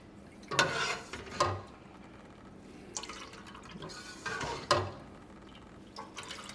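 Liquid drips and splashes while homemade vegan fish sauce is strained and the solids are mashed down, in several short bursts of dripping and trickling separated by quieter gaps, fairly close and moderate in level.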